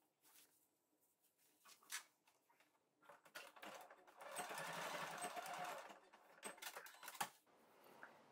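Faint and close, a sewing machine bastes elastic in place on a lunch bag, with scattered clicks and handling noises followed by a short steady run of stitching and a few more taps.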